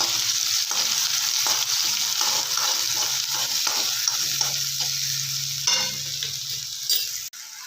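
Chopped onions frying in hot oil with mustard seeds and cumin, a steady loud sizzle with occasional stirring scrapes throughout, no voices.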